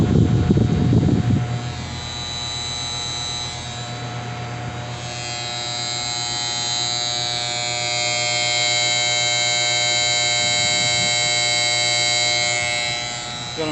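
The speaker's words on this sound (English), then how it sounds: "the AC turned on" An outdoor air conditioner unit drones with a loud, steady electrical buzz and layered hum, starting after a brief burst of low rumble and holding on without a break.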